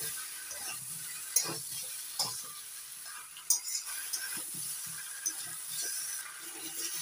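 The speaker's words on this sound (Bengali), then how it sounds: "আদা বাটা দিয়ে সবজির সঙ্গে নাড়াচাড়া করে ভেজে নিয়েছি।" Malabar spinach and mixed vegetables are stir-fried with ginger paste for a prawn chachhari, a faint sizzle under repeated spatula scrapes and clicks against the pan at an uneven pace.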